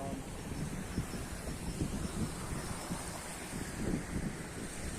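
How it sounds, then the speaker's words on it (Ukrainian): A large river waterfall roars as a steady, broad rush of falling water outdoors, mixed with gusty wind buffeting the microphone, with no talking. "Там мост, а нижче великий водопад."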